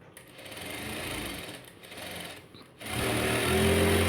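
A sewing machine stitches thread piping on a blouse in steady close whirring bursts, with short pauses between runs and a louder, faster run at the end.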